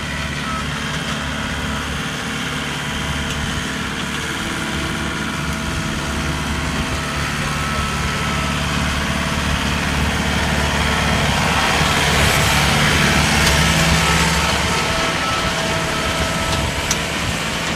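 A steady, low tractor engine drone runs throughout, rumbling continuously at close range with a slight swell in loudness near the end.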